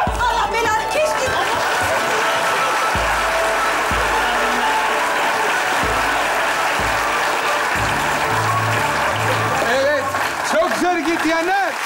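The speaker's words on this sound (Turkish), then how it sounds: "Neredeyse eşit alkış geldi" A studio audience at a Turkish comedy show claps loudly and continuously through a sustained wash of applause, with cheers and voices talking over it and some musical tones near the end.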